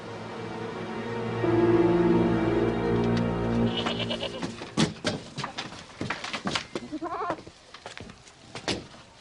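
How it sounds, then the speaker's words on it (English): Goats bleat in a farmyard: one drawn-out, wavering bleat is followed by a run of clattering, shuffling livestock noises and shorter bleats, fairly close and loud. "David, just count those goats for me, will you?"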